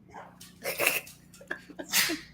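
A single person sneezes during a relaxed indoor conversation, a short sharp burst followed by a second breathy release, fairly close and clear over a quiet room.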